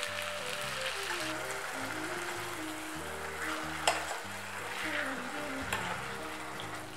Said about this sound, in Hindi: अब हम इसे चलाते हुए गुड़ को मेल्ट करेंगे।